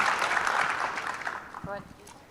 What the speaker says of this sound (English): I think that deserves a pretty significant round of applause